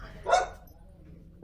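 A dog gives a single short bark, near and moderately loud, followed by quiet and the start of another sound at the very end.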